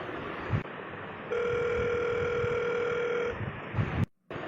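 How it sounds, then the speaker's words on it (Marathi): A telephone call being placed, with a steady electronic tone from the handset lasting about two seconds amid faint room noise, followed by a click and a brief cutout. "थांब, मनाला फोन लावू आपण."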